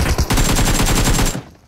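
Rapid automatic gunfire from a firearm in PUBG Mobile striking an enemy, a loud, close burst of evenly spaced shots lasting about a second before cutting off.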